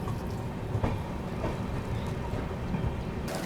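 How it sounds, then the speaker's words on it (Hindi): Train arriving at Udhampur railway station, a moderate steady rumble of railcars with occasional clicks and knocks, fairly close and without speech. "निर्धारित समय से आधे घंटे की देरी के साथ ट्रेन अपनी पहुंच चुकी है MCTM उधमपुर रेलवे स्टेशन पर"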